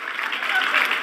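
Crowd applause from a TV broadcast, a dense hiss of clapping sustained for a moment, moderately loud and slightly distant.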